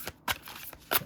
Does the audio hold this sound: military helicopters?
no